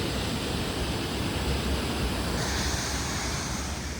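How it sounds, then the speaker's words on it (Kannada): A waterfall tumbles through green forest in Amboli Ghat. Its steady, dense roar of rushing water runs unbroken throughout, loud and close, with no voices. "ದುಬುಕುತ್ತಿರುವ ಜಲಪಾತ"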